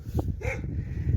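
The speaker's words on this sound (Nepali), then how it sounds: "कुकुर कत्रो डेन्जर डेन्जर रहेछ है।" A dog barks once up close in a short burst with a faint whine, over a low background rumble.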